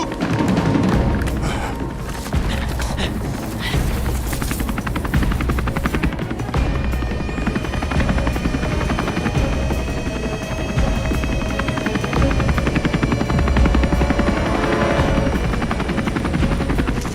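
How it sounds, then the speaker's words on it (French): A helicopter roars steadily overhead, its rotor chop loud and continuous throughout with no voices, thumping and droning without pause. "D'où est-ce qu'il vient, cet hélicoptère?"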